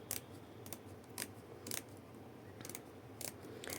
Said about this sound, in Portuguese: Deixa eu cortar aqui só esta pontinha, ó.